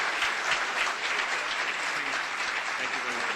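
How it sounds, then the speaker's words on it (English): A room of Rotary luncheon attendees gives steady, dense applause, an even wash of clapping lasting the whole moment without pauses. "Let's have a round of applause."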